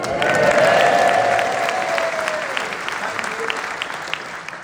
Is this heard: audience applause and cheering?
yes